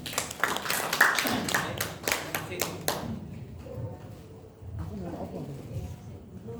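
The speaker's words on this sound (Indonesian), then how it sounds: "Oke, berikan tepuk tangan." A church congregation at a Sunday service claps in a quick burst of sharp, rhythmic handclaps for about three seconds, then fades to quiet room murmur and low voices.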